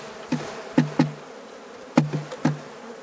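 Honeybees on a hive frame, stirred up as the frame is given a firm shake, producing a handful of sharp knocking bursts with a buzzing tone, spaced irregularly over a low steady hum.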